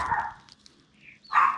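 A dog gives a couple of short barks, the first near the start and a louder one near the end, with a quiet gap between them.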